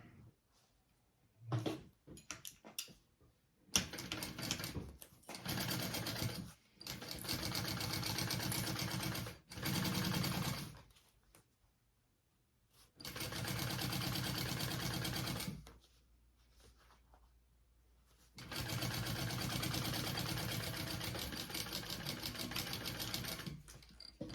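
A sewing machine stitches through a thick, multi-layered bag panel, running in repeated bursts of steady whirring, some long and some short, separated by quiet pauses, close and clear with no talking.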